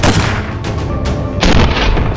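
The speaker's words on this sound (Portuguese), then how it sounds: "O disparo acerta o alvo com precisão" A World War II rifle fitted with a Krummlauf curved barrel fires, giving loud booming reports: a heavy blast at the start and another sharp crack about halfway through, each trailing into rumbling echo.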